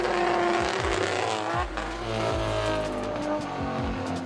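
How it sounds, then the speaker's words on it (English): A drift car engine roars at high revs with repeated sharp shifts and stutters in pitch, misfiring near the top of the RPM range, on a wet track, heard from a moderate distance with steady background noise. "it sounds like mild misfire towards the top of the RPM range"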